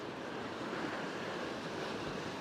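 Ocean waves washing against a rocky shoreline during rock fishing for snapper, a steady broad roar of surf with wind noise, continuous and moderately loud with no talk.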